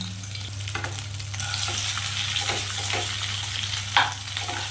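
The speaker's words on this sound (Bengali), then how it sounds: "তেলটা গরম হয়ে গেছে, আমি সিদ্ধ আলুটা এর মধ্যে দিয়ে দিলাম।" Boiled potato dropped into hot oil for potato chops, giving a continuous close sizzle over a low steady hum, with one louder clatter near the end.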